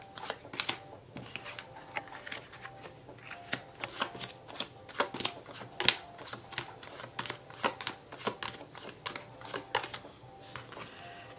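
Cards shuffled for a Lenormand reading, a long run of quick, crisp riffling flutters and soft slaps in steady bursts, close and fairly quiet, with no talk.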